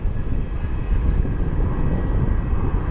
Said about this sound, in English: Delta Flight 1025 inbound from Atlanta.